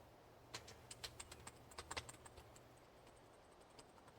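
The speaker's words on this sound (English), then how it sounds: "Am I not pushing my arrow key?" Computer keyboard keys pressed in a quick irregular burst of light clicks during a game session, clustered early then thinning to a few isolated taps, close and fairly quiet with no talk.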